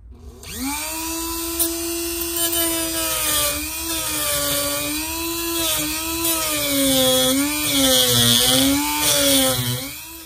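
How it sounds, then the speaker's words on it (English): A Dremel rotary tool grinds excess plastic from the back of a Fiat 500 Abarth clutch pedal, a loud, close, high-pitched whine whose pitch wavers and dips as the bit bites into the material, with no talk. "I'm gonna take my Dremel and I'm gonna Dremel away that extra plastic material"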